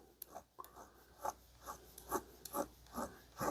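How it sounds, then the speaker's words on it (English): A hand file works slowly across the pin of a vintage Keen Kutter pocket knife, giving a quiet, close, evenly spaced rasp of short strokes, about two every second, with no voices. "I'm going to go at it with a file and just slowly, carefully take material off with the file"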